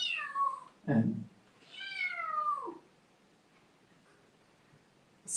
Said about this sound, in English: you might be wondering why I have a black kitten here